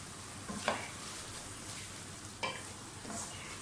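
Potatoes and fenugreek fry in oil with a steady hiss, and two clear scrapes of a stirring spoon cut through the sizzle close by, with no one talking.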